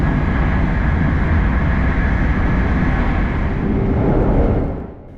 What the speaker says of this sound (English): our Shinkansen E5 can really start to stretch its legs and cruise at around today's top speed of